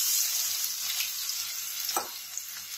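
Chopped onion and ginger sizzle in a pan with cumin, a steady close hiss of frying with a brief stirring rustle near the end.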